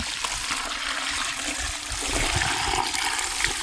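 Water pours steadily into a bucket, a continuous rushing splash close by with no talking.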